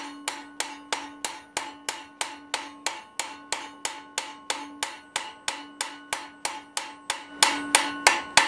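Hot steel is forged with a hammer on an anvil: a long, steady series of ringing, evenly spaced strikes, close and clear with no talking, the blows growing a little heavier near the end.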